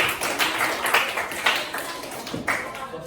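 Small group of students in a classroom clap for their classmates after a group presentation, a modest, slightly ragged patter of hand claps at close range, fading toward the end.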